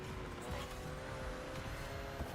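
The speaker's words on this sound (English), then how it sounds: "Why does the car sound like it has an engine belt loose?" Racing car engine in The Crew Motorfest during a ranked Grand Race, a steady loud whine with a slightly loose, belt-like tone, continuous throughout with faint tire noise and no talk.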